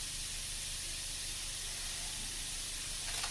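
Sausage browning slowly in a pan for gravy, giving a steady soft hiss and sizzle that stays even and fairly faint throughout, with no talking.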